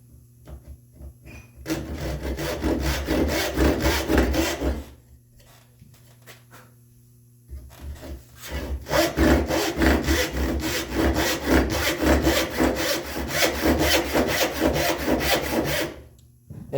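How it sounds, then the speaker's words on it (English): A dovetail saw making a rip cut along the grain of wood for a spice rack rail, giving rhythmic rasping back-and-forth strokes in two long bursts separated by a pause, loud and close. "since it's a rip cut, I'm going to use my dovetail saw"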